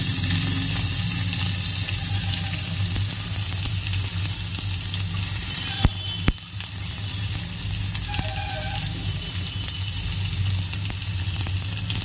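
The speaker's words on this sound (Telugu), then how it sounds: "ఈ ఆనియన్స్లో 2 మినిట్స్ అనేది ఫ్రై చేసుకోవాలి." Onions fry in a pan with a steady, loud, continuous sizzle and a few clinks of stirring partway through, with no talking.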